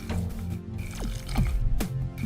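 Coolant is poured into a motorcycle cooling system, a close, continuous liquid glug and splash with gurgling drips, fairly loud and heard on its own.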